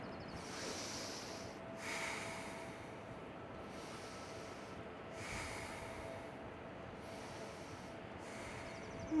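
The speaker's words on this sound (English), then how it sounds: "Three more deep breaths here." Slow, deep breathing during a yoga pose, long airy inhales and exhales in a steady rhythm, close and fairly soft against a faint constant background hum.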